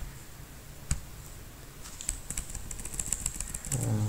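Keys clatter on a computer keyboard as a project name is typed, starting with a single tap and then speeding into a quick run of close, fairly faint clicks over a low background hum.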